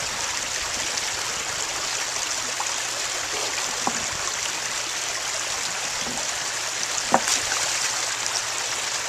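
A shallow outdoor stream flows in a steady, broad rushing wash, close and constant, with a couple of brief knocks or splashes over the continuous water noise.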